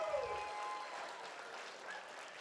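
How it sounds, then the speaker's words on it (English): A round of applause at a Make-A-Wish Idaho fundraising event for donors, steady and fairly faint, as if heard from across the room. "Huge round of applause for all the generous people that gave"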